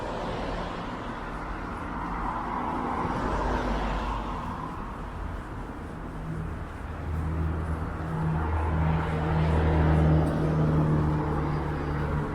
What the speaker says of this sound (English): There's the Sherbourne bus, 75 Sherbourne.